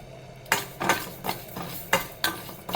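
Mustard and fenugreek seeds dry-roasting in a hot kadai with no oil, heard as repeated scraping and clinking strokes of a spoon against the metal pan, about five distinct stirs with faint crackle between them, close and alone.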